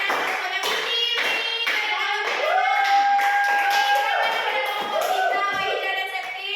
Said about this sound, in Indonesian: berikan tepuk tangan lama bersama berdiri